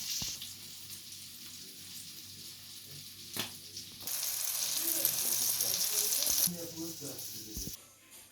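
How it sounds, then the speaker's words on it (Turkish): A pan of sardines fries crisply, a low sizzle at first that swells into a dense, bright crackle through the middle before easing off, with a few clicks and faint background voices. "Lezzetli çıtır çıtır balıklarımın ikinci partisi pişiyor"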